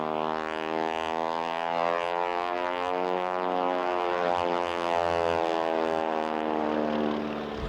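A stunt biplane, the Showcat, flies a barnstormers loop at an airshow with a wing walker standing on top; its propeller engine gives a loud, steady, droning roar throughout, swelling slightly as it passes.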